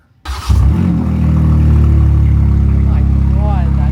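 A BMW M2 engine with an exposed downpipe fires up and roars into a loud, rough, sustained rev with a throaty rumbling exhaust, very close and filling the space.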